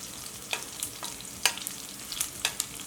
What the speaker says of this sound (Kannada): ಸ್ವಲ್ಪ ಲೋ ಫ್ಲೇಮ್ ಇಟ್ಕೊಂಡು ಬೆಳ್ಳುಳ್ಳಿನ ಕೆಂಪಗೆ ಹುರ್ಕೊಳ್ಳೋಣ